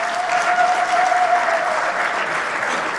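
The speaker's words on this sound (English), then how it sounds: "Another big round of applause for His Excellency" Steady, loud applause from a large audience fills the hall for His Excellency at the African Peer Review Mechanism launch. The clapping is continuous and close throughout the short stretch.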